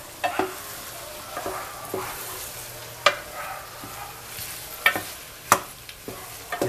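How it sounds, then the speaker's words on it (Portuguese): Sausage browning in a pan with other ingredients for a tripe stew, a steady soft sizzle broken by sharp spoon scrapes and stirring clicks every second or so, close and alone without talk. "Agora vamos misturar essa linguiça aos outros ingredientes e vamos deixá-la dourar um pouquinho também junto aos outros ingredientes."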